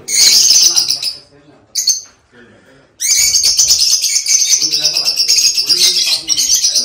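Lovebirds at a bird farm chirp loudly and densely in rapid bursts, with a short pause before the chorus resumes continuously.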